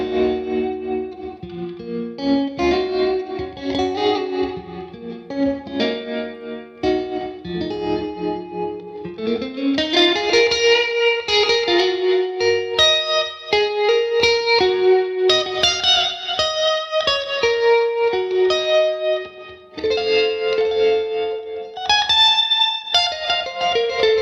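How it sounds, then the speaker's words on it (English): Electric Stratocaster guitar played through a Bad Cat Black Cat combo amplifier, a steady stream of chords and melodic lines with chorus-like shimmer and reverb, loud and continuous on its own. "I love all those Strat tones on this thing"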